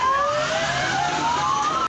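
A fire engine siren wails steadily at a fire in Gurugram, its pitch slowly rising and falling, loud and continuous with traffic rumbling underneath.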